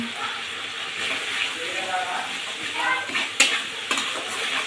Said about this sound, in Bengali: সুন্দর করে মশলাটা একটু কষে দেব